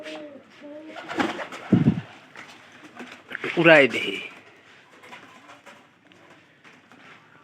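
Pigeons coo softly nearby while someone talks over them in brief bursts.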